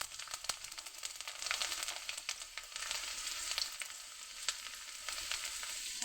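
Garlic cloves frying in hot oil in a pan, a close, busy sizzle with crackling pops and spatters running throughout, with no voices.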